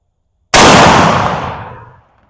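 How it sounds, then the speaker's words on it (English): A single loud rifle shot fired during scope testing with an ATN X-Sight 5 LRF, a sharp close crack followed by a long decaying boom and echo, with no talking. "Shooting again."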